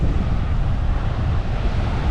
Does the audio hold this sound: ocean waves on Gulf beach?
yes